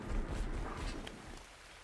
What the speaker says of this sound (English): Okay, got some rain, which is always a nice relief in the desert.